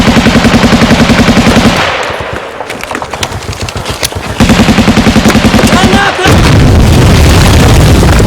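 Machine gun fire in the Finnish war film The Unknown Soldier, during an assault on Soviet bunkers and trenches: loud sustained automatic bursts with rapid steady pulses, a brief pause broken by scattered shots and booms, then heavy firing resumes.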